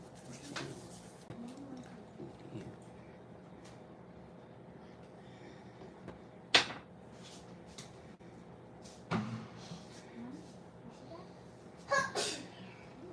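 A sharp sneeze sounds in a quiet kitchen, one of a few brief bursts standing out over a low, hushed background.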